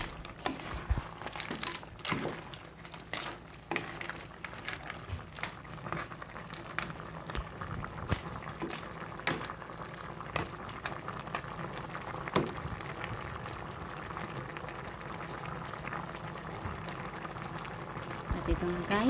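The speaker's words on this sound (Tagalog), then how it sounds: "pakulan lang po natin ito ng mga ilang minuto" A pot of ginataang gabi, a taro and snail stew in coconut milk, bubbling on the stove, with a soft continuous simmer broken by irregular pops and gurgles while a person speaks over it.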